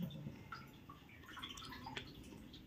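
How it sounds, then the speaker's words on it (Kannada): Water drips and trickles from cooked greens as they are squeezed out by hand, a soft, close, fairly faint wet patter running steadily with small splashy accents. "ಚೆನ್ನಾಗಿ ನೀರೆಲ್ಲ ಹಿಂಡ್ಕೋಬೇಕಾ?"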